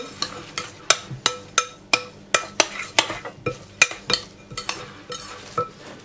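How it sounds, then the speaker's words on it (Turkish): A spoon stirs bulgur with freshly added boiling water in a bowl for kısır, producing a steady rhythm of sharp clinks and scrapes against the bowl, roughly two or three strokes per second, close and clear. "Bir buçuk su bardağı da kaynar su ilave edeceğim. Çok da kaçırmayın. Tam bir buçuk yeterli geliyor. Şöyle karıştırayım."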